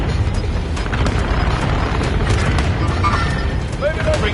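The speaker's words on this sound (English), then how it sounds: "Bringing down an airstrike" Continuous heavy rumbling booms of airstrike explosions in the video game Call of Duty Warzone, a dense loud barrage with voices speaking over it.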